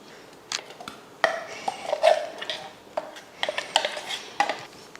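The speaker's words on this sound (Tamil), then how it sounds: "இப்போ இதை ஒரு பவுலில் மாற்றிடலாம்." Thick ground dosa batter is scraped and scooped from a grinder jar into a bowl, with clinking metal, spoon scrapes and knocks in irregular close bursts and no talk.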